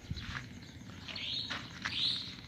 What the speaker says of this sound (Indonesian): banyak sekali orang-orang yang takut mendengar suara burung-burung ini